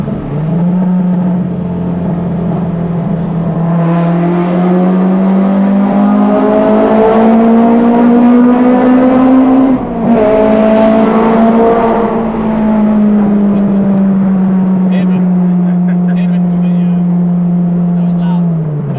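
A Honda Civic Type R DC5 with a K20 engine and individual throttle bodies revs hard inside a tunnel, its loud, close engine note climbing, briefly dipping at a gear change, then holding a steady drone as the sound echoes off the walls.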